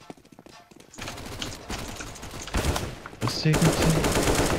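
Rapid bursts of gunshots in CS:GO, growing louder and denser toward the end, with a brief spoken voice at the start.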